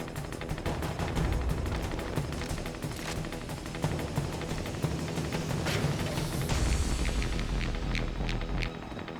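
Sustained rapid turret gunfire in Payday 2, dense repeated shots forming a loud, continuous rattle, with no one talking.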